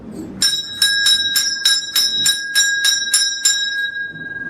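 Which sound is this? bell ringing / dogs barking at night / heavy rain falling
bell ringing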